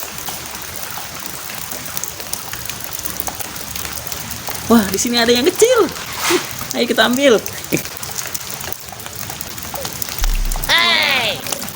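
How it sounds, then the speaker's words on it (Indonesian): Light drizzle patters outdoors as a soft, steady wash of drops beneath a speaking voice, which rises and falls over it. "Hujannya lumayan rintik-rintik"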